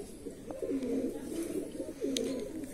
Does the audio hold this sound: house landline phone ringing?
no